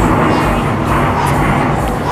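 An airplane passes overhead outdoors, producing a steady, broad rumbling roar that stays loud and constant throughout, with no voices over it.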